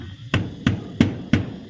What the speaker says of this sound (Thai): มาตอกขัด